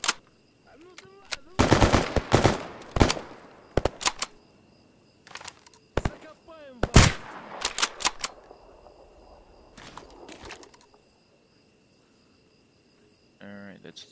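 Gunfire in a firefight with renegades at a pump station in S.T.A.L.K.E.R. G.A.M.M.A. Sharp rifle shots and bursts crack in irregular clusters over a steady insect-like chirring, loud and close, then thin out toward the end.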